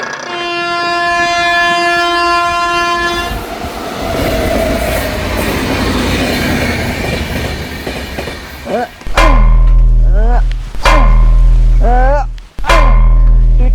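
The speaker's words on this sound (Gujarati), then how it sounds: "હમણાં ઓલી રેલગાડી નીકળશે" A train horn sounds loudly, then a train rumbles past with heavy clattering, followed by loud, wavering tonal blasts near the end.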